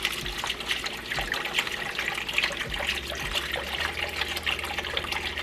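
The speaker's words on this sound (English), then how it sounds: "This is where we're going to add in, she did 5 cups of chicken broth." Chicken broth pours steadily from a container into a pot, a continuous close-up splashing trickle lasting several seconds with no talk.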